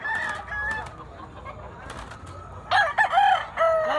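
A bullstag gamecock rooster crows close by in short bursts, with a second louder crow near the end, against quiet background noise.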